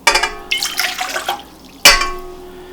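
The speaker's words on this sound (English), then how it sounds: "To start this recipe, we're going to add the water." Water poured into a bowl of melted butter and bread flour for Riga bread dough, heard as two close, splashing pours with a trickling tail and a short pause between them.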